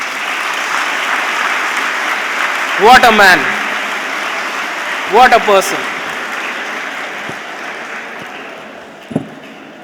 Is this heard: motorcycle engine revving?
no